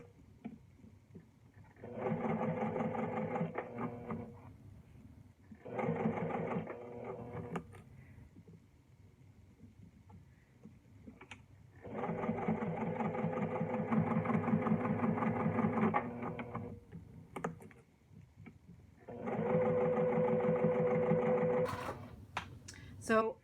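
A sewing machine stitches a bag in four long bursts of steady mechanical whirring, close and loud, with quiet pauses between runs and a few small clicks and handling noises.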